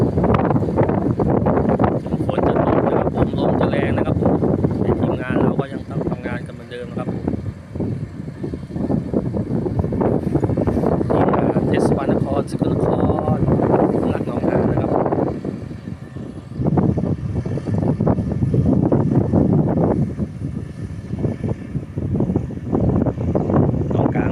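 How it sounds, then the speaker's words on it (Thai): Strong wind whips across the water during rain on Nong Han lake, a loud continuous roar buffeting the microphone in surging gusts for the whole stretch. "ลมแรงนะครับผม"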